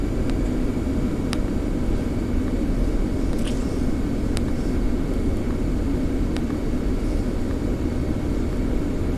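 An airliner on a Miami to Toronto flight climbs after takeoff with a loud, steady engine roar heard from inside the cabin, broken by a few faint clicks and no voices.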